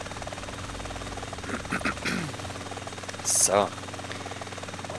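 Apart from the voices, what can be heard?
helicopter flying in GTA San Andreas video game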